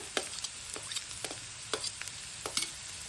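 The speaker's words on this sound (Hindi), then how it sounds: "अब हम ये सब्जियां डाल देंगे। तो सबसे पहले हम फूल गोभी डालेंगे, बीन्स डाल देंगे" Cauliflower and green beans are stir-fried with onions in a pan, with crisp, sizzling spatula scrapes repeating every half second or so over a faint background hiss.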